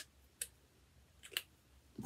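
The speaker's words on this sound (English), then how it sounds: "So now what I'm going to do is I'm going to take my scissors." Scissors cut out a contact paper dolphin pattern for a suncatcher, giving a few faint, quiet snips and clicks spread over a couple of seconds in a hushed room.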